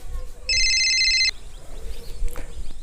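A telephone rings with an incoming call, a single bright electronic ring burst lasting under a second amid quiet background and faint voices.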